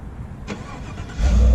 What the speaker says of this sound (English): hold the remote start button,